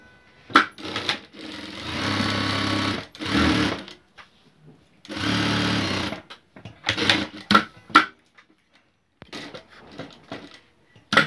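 Sewing machine stitching fabric for a decorative banner, running in several bursts of rapid mechanical chatter of a second or two each, separated by pauses and short clicks, close and clear.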